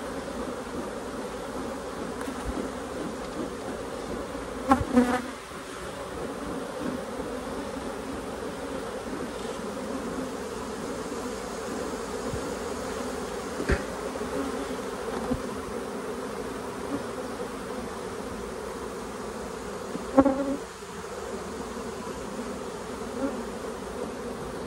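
Aggravated honeybees buzz in a continuous, even drone throughout a backyard hive inspection, with a few brief louder bumps and clicks near the microphone.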